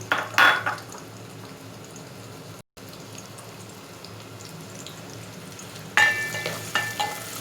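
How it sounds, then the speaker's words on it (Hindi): Onions frying in hot oil for a bottle gourd dish, a steady close sizzle with louder bursts as pieces are stirred at the start and again near the end, broken by a short silent gap. "ऑयल गर्म हो जाए तो फिर मैं इसमें अनियन फ्राई करूँगी"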